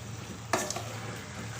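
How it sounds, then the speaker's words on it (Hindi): Potatoes fry in a pan: a short scraping stir stands out over a faint, steady background sizzle. "बस 30 सेकेंड के लिए हम आलूओं को भूनेंगे"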